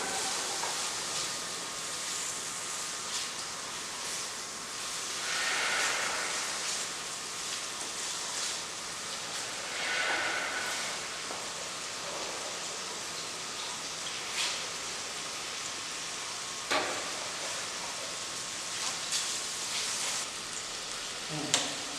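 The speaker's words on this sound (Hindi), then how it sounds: "और साथ ही डाल देंगे 100 ग्राम के करीब चॉप्ड हैम डाइसेस, और थोड़ी देर के लिए इसे बटर में सौते करेंगे" About 100 grams of chopped ham dice sautéing in butter, giving a steady, soft sizzle with faint crackles that rise and fall over time.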